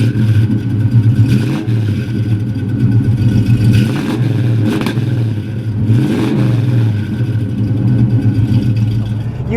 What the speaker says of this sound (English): You hit the gas and you have that throaty exhaust note